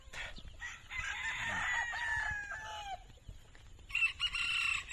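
Roosters among broodstags and pullets on a farm near Mt. Canlaon crow in long, strained calls, one following another at moderate distance, with clucking and light farmyard noise around them.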